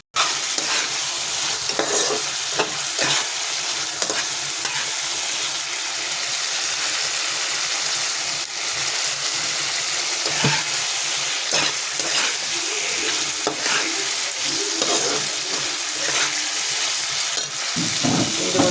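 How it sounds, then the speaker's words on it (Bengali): Spice paste (masala) being stirred and fried in hot oil in a pan, a steady close sizzle with repeated scraping strokes of the spoon running throughout, no voices. "মশলাটা ভালো করে কষার জন্য, তেলটা বেরিয়ে যাবে, কষাবো আরও"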